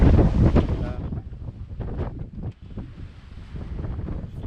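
Steady wind gusts buffet the microphone aboard a sailboat under way at sea in a 14-15 knot breeze, with faint water wash beneath, loud and close throughout.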